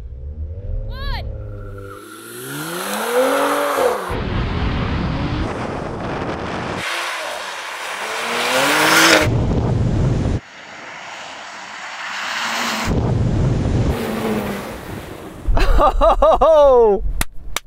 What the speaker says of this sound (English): That was the best launch I've had out of this car all day.